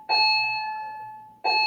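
A school bell rings in a steady electronic tone for over a second, fades, then starts again near the end; the room is otherwise empty and quiet.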